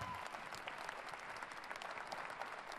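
A keynote audience claps in sustained applause, a dense, even wash of many hands heard from within the hall, steady throughout at moderate level with faint murmuring underneath.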